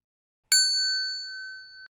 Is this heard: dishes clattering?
no